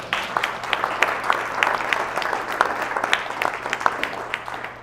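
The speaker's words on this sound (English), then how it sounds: "That deserves a round of applause" A room of people applauds at a business breakfast gathering, steady moderate clapping with sharp individual claps standing out, fairly even throughout and no voices over it.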